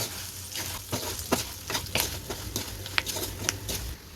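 Brinjal sizzles in a hot pan with cumin powder, coriander powder, salt and curry leaves while a spoon stirs it, giving soft scraping strokes and bright crackles over a steady frying hiss, close and moderately loud.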